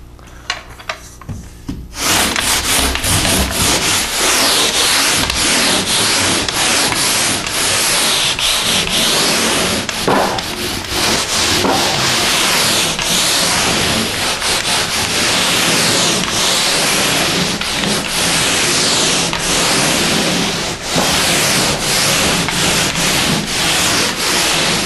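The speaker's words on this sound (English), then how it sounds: "What I recommend is being able to sand the wall with 80 to 100 grit sandpaper." Drywall being hand-sanded with 80 to 100 grit sandpaper, a continuous close scratchy rubbing in steady back-and-forth strokes that starts after a brief pause and runs on without talk.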